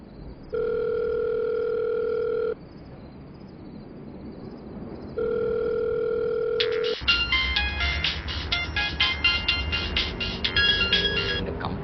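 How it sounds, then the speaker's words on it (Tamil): A telephone call tone plays in a short film: two long steady beeps with a pause between, then a quieter stretch of rattling handling noise and background hum. "சரி, நீ சீனி கால் பண்ணு."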